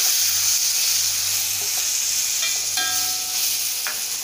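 Onions and coconut pieces sizzle steadily in a pan for an onion theeyal, a continuous bright frying hiss with a few light scrapes and clinks of stirring near the end, no voices.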